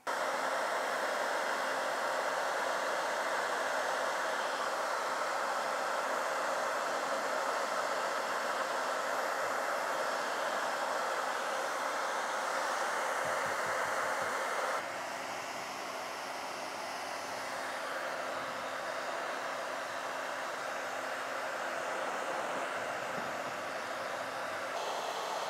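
A hair dryer blows continuously in a loud, steady rushing whoosh that shifts slightly in tone partway through, with no other sounds.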